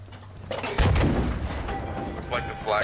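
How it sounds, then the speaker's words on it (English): Flak cannons booming in a video game: a few muffled, thudding reports and rumble under someone talking. "Looks like the flak cannons have them distracted, bud."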